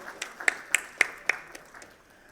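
Sparse applause at a workplace safety panel event, a few distinct claps ringing out in a loose rhythm before fading away, thin and scattered rather than a full crowd ovation.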